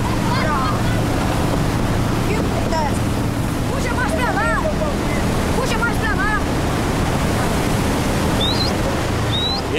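Ocean waves and sloshing water surround a small boat that is filling with water, a loud steady wash with wind noise across the microphone.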